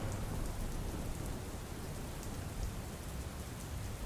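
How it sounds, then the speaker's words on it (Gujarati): Steady monsoon rain pours down in Valsad district, Gujarat, in a continuous dense hiss, with a faint low rumble underneath and no voices. "વહેલી સવારથી સાર્વત્રિક વરસાદ જોવા મળી રહ્યો છે"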